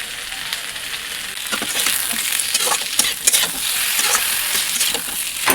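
Eggplant pieces lightly fry in a pan with a crackling sizzle broken by irregular bursts as they are stirred, close and fairly loud.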